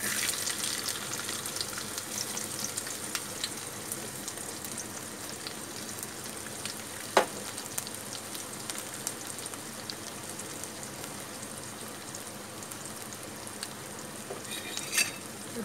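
Cumin and onion fry in oil with a soft, steady rain-like sizzle, faint and even throughout, with a few brief clicks and pops and no voices.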